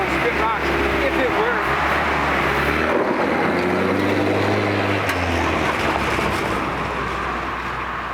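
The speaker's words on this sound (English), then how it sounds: "See if it'll do a burnout." A 1967 International Scout 800 engine runs as the driver tries a burnout, its steady low rumble and revving droning loud and continuous beneath people talking close by.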